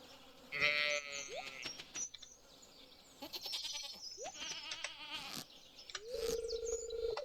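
Goats bleat in Stardew Valley amid farm-game sound effects, with several loud wavering cries and short chirpy game blips and rising tones scattered through the clip.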